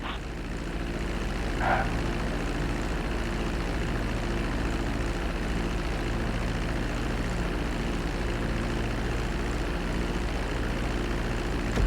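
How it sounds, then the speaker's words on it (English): In the video game Grand Theft Auto V, an airplane comes in to land on a runway, its propeller engine droning steadily and evenly throughout with a constant low hum; no speech. "Start reducing the plane's altitude gradually so you're just above the runway as you approach."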